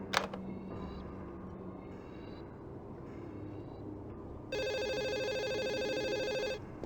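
A telephone ringing in the video game Urban Runner, a bright electronic ring that starts partway through and holds steady and loud for about two seconds after quieter game ambience and a few clicks.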